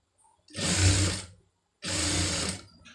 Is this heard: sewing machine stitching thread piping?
yes